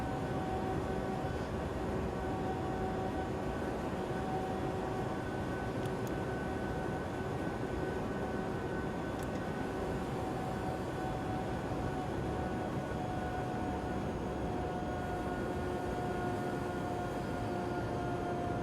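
BR101 electric locomotive in Train Simulator 2016 on the Three Country Corner route, a steady dense rumble with faint high tonal hum, constant and close throughout with no talk.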